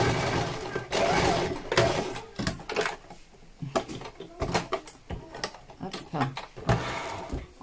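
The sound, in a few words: sewing machine stitching fabric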